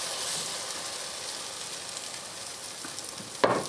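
Bread soaked for French toast sizzling in a skillet, a steady soft frying hiss throughout with a brief louder crackle near the end and no talk.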